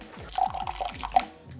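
Water pouring and dripping into a container on a kitchen scale while 60 grams are measured out for a homemade running gel, a close, quiet trickle with small splashes lasting just over a second.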